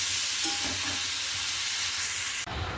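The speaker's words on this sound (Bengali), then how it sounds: "কড়াইতে তেল বসিয়ে দিয়েছি সর্ষে ফোড়ন দিয়ে চাটনিটা নুন হলুদ দিয়ে বসিয়ে দিলাম" Tomato chutney with salt and turmeric cooking in oil with mustard seeds in a wok, giving a steady close sizzling hiss with faint stirring scrapes, then an abrupt drop in level near the end.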